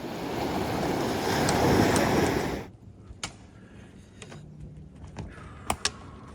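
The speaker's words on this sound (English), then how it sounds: "The waves get louder through the night, inching nearer." Pacific Ocean surf on Canada's West Coast Trail roars loudly at night for a few seconds, then drops away to quiet with scattered small clicks and knocks nearby.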